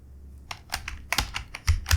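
Typing code on a computer keyboard, close and crisp, a handful of irregular key clicks that build into a quicker burst of heavier strokes at the end, with no voice.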